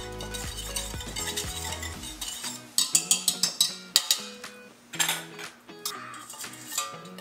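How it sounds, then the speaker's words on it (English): Allspice being whisked into hot pickling liquid for pickled onions, with scraping stirs and a run of sharp metallic clinks against the pot at a steady beat, some faint sizzle underneath. "whisk in the 1/8 of a teaspoon of the allspice"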